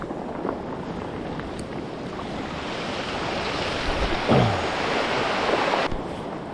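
Ocean swell rolls in steadily at a coastal fishing spot, a broad continuous wash of surf with wind buffeting the microphone and a slightly louder surge near the end.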